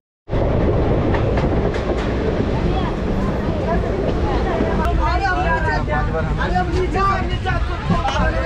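Rajgriha Express passenger train running on rails from Danapur to Rajgir in Bihar, a loud continuous rumble with rattling carriages and steady clatter, heard from onboard, with faint voices in the background.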